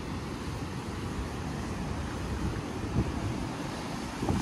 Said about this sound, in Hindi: पूरा पानी आ रहा है अपने ऊपर रिवर्स वाटरफॉल का